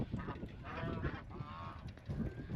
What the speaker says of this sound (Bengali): এখানে হাঁস দেখতে পাচ্ছি হাঁস প্রতি বাড়িতেই পালন করে থাকেন